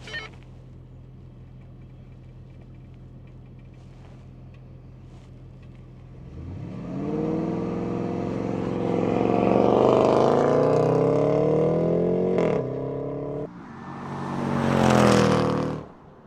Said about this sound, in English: do a launch control. I want to hear that engine just hammer it down.